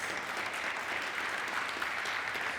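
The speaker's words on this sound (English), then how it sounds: "Let's give a big round of applause to our panelists." An audience at a panel discussion claps steadily in sustained applause, a dense even patter of many hands filling the whole moment.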